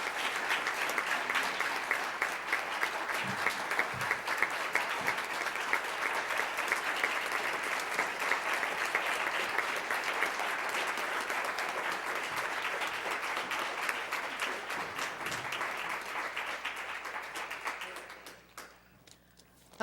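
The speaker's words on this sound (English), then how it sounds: "Can we get a round of applause for our panel?" Sustained audience applause for a panel at a 2014 plenary session on DNA forensics, a dense steady roar of many hands clapping for about eighteen seconds before fading out at the end.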